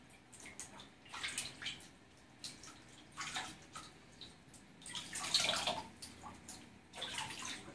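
Warm water splashes and trickles faintly in a bird bath in uneven bursts as a salvadorii parrot resists the soaking, with soft dripping and splashing between louder swells.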